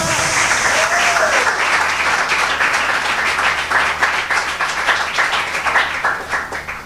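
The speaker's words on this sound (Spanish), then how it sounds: "Dale esas palmas." A church congregation applauds together, a steady wash of many hands clapping at close to moderate distance that thins toward the end, with some voices mixed in beneath the clapping.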